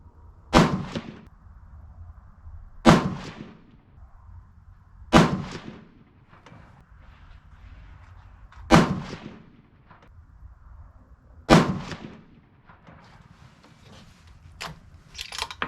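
Five sharp 6.5 PRC rifle shots from a Seekins Precision Havak firing Reloader 25 handloads at 56.5 grains, each a loud crack with a decaying tail, spaced evenly about three seconds apart with quiet between.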